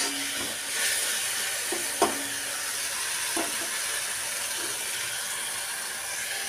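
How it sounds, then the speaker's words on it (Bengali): Tomato, onion and spices fry in a pan, giving a steady, soft sizzling hiss. A few faint utensil clicks and taps sound over it, and no voices are heard. "টমেটো, পেঁয়াজ এবং মশলা ভালো করে আমার ভাজা হয়ে গেছে"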